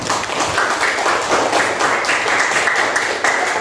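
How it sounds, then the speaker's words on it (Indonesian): Pupils in a classroom give a short burst of clapping during a lesson, a brief patter of hands that rises and fades within a few seconds. "beri tepuk tangan"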